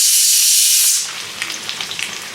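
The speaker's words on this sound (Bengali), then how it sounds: "এখন মাংসের আলু কষা হচ্ছে।" Mutton and potatoes sauté in a hot pan, giving a loud, steady sizzling hiss that fades down into softer crackling and popping.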